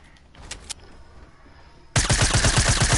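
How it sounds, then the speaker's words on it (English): Automatic gunfire from a video game breaks out after a quiet stretch with a couple of faint clicks, then becomes a loud, rapid, steady stream of shots. "Oh, he's shooting."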